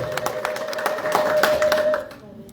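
Congregation in a church service, men and women clapping and ululating together, a dense, steady burst of hand claps with a high trilling ululation running through it, fading out near the end.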